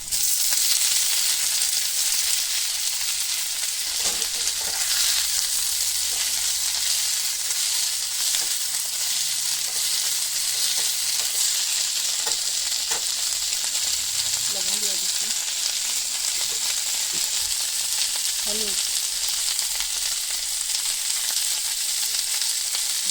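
Sliced onion and drumstick leaves fry in a pan for Bengali fritters, producing a loud, continuous hiss of hot oil with faint stirring sounds and soft voices in the background.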